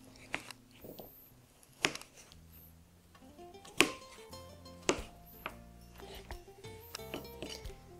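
A knife slicing through raw butternut squash into cubes on a cutting board, a handful of sharp, separate chops spaced a second or so apart, close and quiet, with faint crunching between them.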